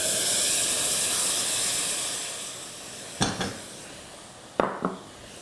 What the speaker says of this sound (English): what we do next is we're going to boil our fermented yogurt.